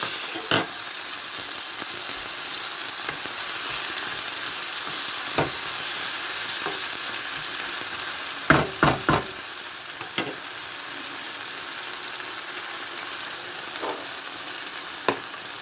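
Spinach frying in a pan for saag aloo makes a steady, close sizzle, with scattered scraping clinks from a utensil stirring it, a short cluster of knocks in the middle, and no talk.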